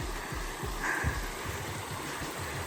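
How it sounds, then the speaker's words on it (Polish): A small waterfall on a stream in the Peak District near Ladybower Reservoir gives off a steady, soft rush of flowing water, close and continuous, with a few faint low thumps and no talking. "taki strumyczek, ale no taki jest malutki wodospad"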